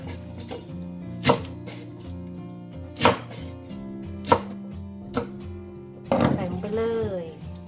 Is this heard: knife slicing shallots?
yes